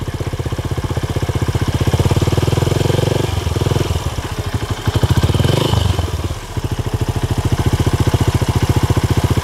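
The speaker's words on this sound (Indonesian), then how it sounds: "kurang lebih seperti ini suaranya" A 2012 Honda Revo Absolute motorcycle with a modified exhaust idles close by in a public place, a steady rapid putter that swells briefly twice with light throttle blips before settling back.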